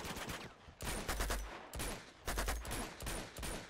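Bursts of gunfire in the video game Uncharted 2 come in loud, rapid volleys. Three or four clusters of shots crack close by, separated by brief lulls.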